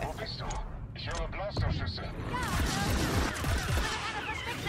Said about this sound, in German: Blasterschüsse